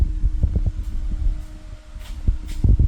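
A Can-Am Defender HD11 UTV idles after being switched on, a low throbbing pulse with uneven thumps and a faint steady hum, fairly close and alone without talk.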